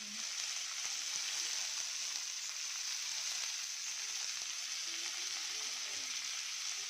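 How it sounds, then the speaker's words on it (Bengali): Food frying in a pan with salt, turmeric and chilli, a steady close hiss and crackle of hot oil holding level throughout, with no talk over it. "সেটা ভেজে নেবো ভালো করে, নুন হলুদ আর লঙ্কা সব দিয়ে দিয়েছি।"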